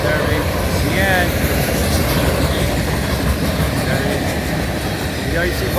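CN manifest freight train heading south with an ES44DC locomotive and mixed BNSF and CN cars, passing close by with a loud, continuous rolling rumble and occasional wheel squeal.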